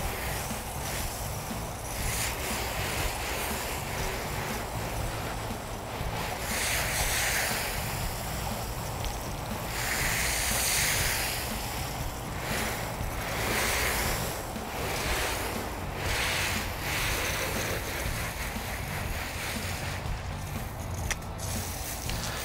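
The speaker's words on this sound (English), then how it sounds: "I'm going to switch over to a water sprayer here using my quick disconnect. Then go ahead and rinse" A water sprayer on a quick disconnect rinses a car during washing, a continuous rushing hiss of spray that swells and eases as it sweeps across the panels, with no talk over it.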